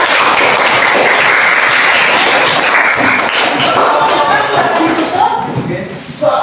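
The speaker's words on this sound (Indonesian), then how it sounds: "kita kasih aplaus dulu untuk kelompok" Classroom applause for a presentation group, with a dense, loud wash of many hands clapping at once that holds steady and then thins out near the end, voices mixed in.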